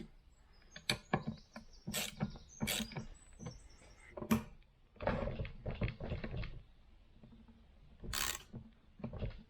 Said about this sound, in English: loosen up these bolts so I can separate these two sets of blades here